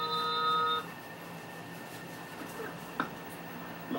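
A telephone rings briefly and clearly at the start inside a barbershop, then stops, leaving quiet room noise with a small knock later.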